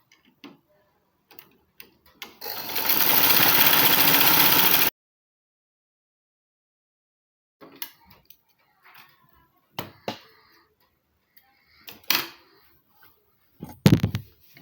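A sewing machine stitches a dart on a flared half-circle gown in one steady burst of about two seconds, followed by quiet handling clicks and light taps.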